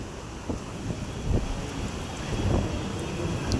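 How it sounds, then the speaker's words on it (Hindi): Strong wind roars steadily outdoors with gusty low rumbling buffeting, no voices, a continuous blustery rush throughout. "बहुत बहुत तेज़ हवा चल रहा था"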